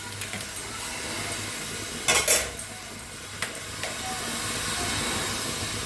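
Bay leaves, cinnamon sticks and cloves sizzle in hot ghee in a pan, a steady close hiss with a few sharp metallic clinks of utensil against the pan, no voices.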